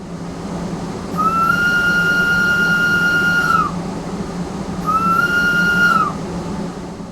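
Whistle of a GE 4/4 II locomotive in Train Sim World 3 on the Arosa line, two loud sustained tonal blasts, a long one then a shorter one, over a low rumbling engine hum.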